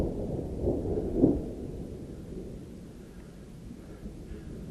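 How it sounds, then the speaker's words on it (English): Distant thunder from a storm over the Zion canyons rolls as a low, sustained rumble, swelling with a stronger crack-like peak near the start before fading into a long, steady murmur. "I hope you could hear that thunder."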